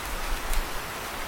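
Heavy rain pouring down in a forest, rendered as a steady, dense hiss of falling water with a soft low rumble, continuous and fairly loud with no voices over it.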